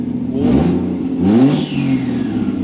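A Toyota JZX100 Mark II engine with its intercooler pipes off revs sharply twice up close, loud and rising each time.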